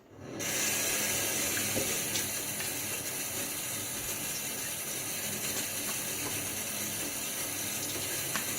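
A running tap pours steadily as a shaving razor, a Fatip Testina Gentile, is rinsed under it, giving a loud, continuous hiss of water that starts abruptly and holds without a break.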